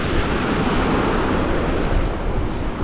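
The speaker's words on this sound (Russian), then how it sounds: "Волны сильные." Storm waves pound a shore protected by breakwaters at Divnomorskoye, a dense continuous roar of surf and wind, loud and close throughout.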